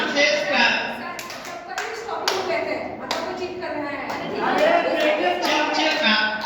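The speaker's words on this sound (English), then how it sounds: "Simon says clap." During a Simon says game at a teacher training session, a group claps in scattered, sharp bursts mixed with taps, and people keep talking loudly over the hand sounds.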